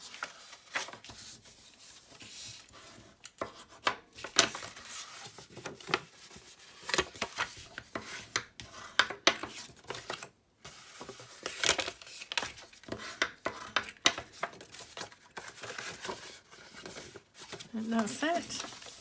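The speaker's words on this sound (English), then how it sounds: "score and burnish all our other score lines as well" Cardstock being scored and burnished along its fold lines while making a small treat box, with repeated short scraping and rubbing strokes close up under intermittent talk.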